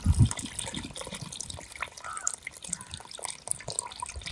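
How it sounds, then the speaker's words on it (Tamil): Soft trickling and dripping of tamarind water being poured into batter for Jaffna-style seafood odiyal kool, fairly quiet, with a low thump at the start and faint background noise. "நல்லா புளியை கரைச்சி தண்ணியை மட்டும் அதில் சேர்த்துக்கலாம்"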